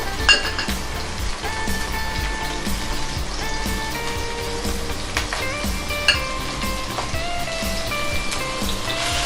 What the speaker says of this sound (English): fry it for 2 minutes